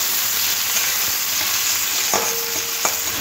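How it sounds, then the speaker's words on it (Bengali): Onion frying in a pan with a steady, close sizzle, a few brief metallic spoon taps against the pan near the end, and no speech. "পেঁয়াজটা একটু হালকা ভেজে নেব,"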